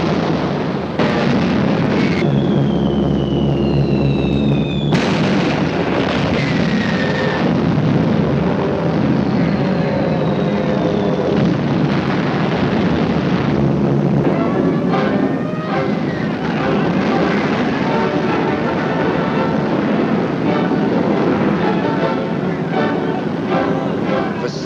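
Aircraft drone over a city under air bombardment in wartime China in a 1940s documentary, a loud continuous rumbling roar with rising and falling whine tones throughout, alongside distant blasts.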